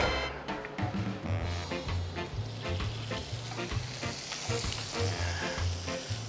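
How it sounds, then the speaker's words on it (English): Butter sizzles and crackles in a hot pan for a grilled Swiss cheese sandwich, a dense close frying hiss with bubbling pops and some stirring, steady throughout with no talking. "now I'm going to put some butter into our pan"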